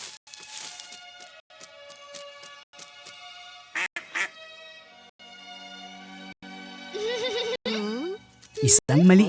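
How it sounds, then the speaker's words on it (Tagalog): A small duck quacks repeatedly in nasal bursts alongside a tonal, musical backing, with other animal-like calls mixed in near the end. "maliit na pato lang pala"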